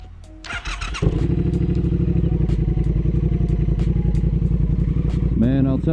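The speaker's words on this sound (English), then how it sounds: "there's nothing quite like a brisk motorcycle ride through Western New York" A Triumph Speed Twin motorcycle engine rumbles loudly and steadily at close range on a chilly November ride, its low throbbing drone continuous throughout, with a short voice near the beginning and end.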